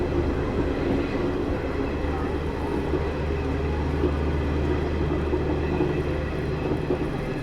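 The Ranchi Garib Rath Express, hauled by an Alambagh-shed locomotive, rolls along with a loud, steady rumble and rattle of wheels and carriages heard from on board, continuous throughout.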